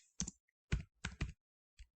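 Typing on a computer keyboard in a few short clustered bursts of clicking keystrokes, close and distinct, separated by brief silences.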